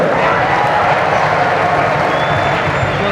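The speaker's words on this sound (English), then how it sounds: "Kaylynne Truong getting an ovation from this crowd" A women's college basketball crowd at Gonzaga versus Portland gives a player an ovation, sustained loud applause and cheering filling the arena without pause.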